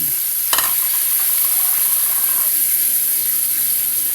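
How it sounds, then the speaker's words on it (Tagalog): Ground pork or beef sautéing in a pan for a bitter gourd dish, giving a steady loud sizzle with a brief stirring clatter early on and no speech. "Igisa lang natin ang giniling."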